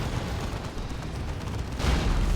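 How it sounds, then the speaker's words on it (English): Rumbling artillery creeping barrage in the real-time strategy game Dawn of War 2, a continuous low roar of distant explosions that swells louder toward the end. "There's a creeping barrage again as well."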